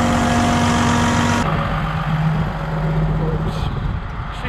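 A tractor engine idles with a steady low rumbling drone that stays constant throughout, its pitch shifting slightly partway through, heard alone at close range without talk.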